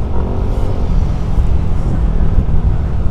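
Exhaust of a Yamaha NMAX motorcycle with a 60 bore-up engine, a steady deep rumble that stays loud and close throughout, with no talk over it.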